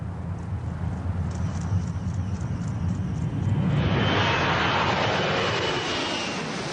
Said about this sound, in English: the pilot can concentrate on guiding the aircraft safely down the runway